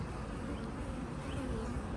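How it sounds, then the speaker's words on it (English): A steady, dense buzzing of many honey bees in a hive during queen cell introduction, continuous and close, with a low hum filling the background. "A lot of bees in here."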